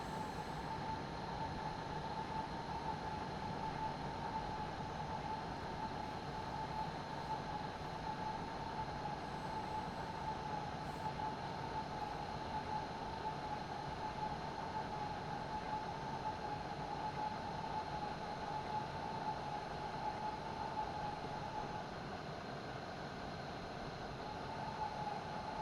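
Regional train RE30 running on the Pegnitz Valley Railway (Pegnitztalbahn) between Neuhaus and Nürnberg Hbf, a steady loud rumble of wheels and motor with a constant mid-pitched whine, unbroken throughout without talk.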